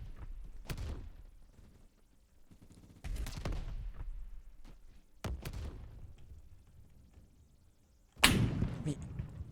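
An SKS rifle in the first-person shooter Phantom Forces fires several separate sharp shots spaced seconds apart, each followed by a brief decay, with a louder crack near the end and a voice talking faintly between shots.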